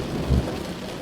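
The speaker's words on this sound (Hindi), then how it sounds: "बारिश अब रुकने ही वाली है।" Steady rainfall with a low rumble of thunder, a brief faint wash of falling rain heard alone without any voices.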